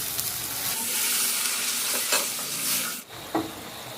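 Masala sautéed in a pan with a little sugar hisses as water goes in, a steady broadband sizzle with stirring scrapes that breaks off abruptly near the end, followed by one brief burst.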